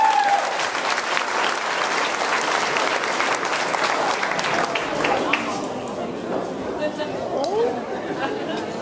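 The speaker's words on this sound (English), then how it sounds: "For the next comedian, y'all give Eric a round of applause" A comedy club audience gives a comedian a round of applause with loud clapping and some cheering. It fades into chatter and talk partway through.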